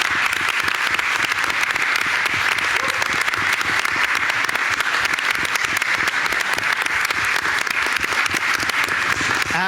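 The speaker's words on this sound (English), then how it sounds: "so we can give you a round of applause" A board of education meeting audience gives teachers a sustained round of applause, with dense, even clapping that carries on steadily for the whole stretch, with no speech over it.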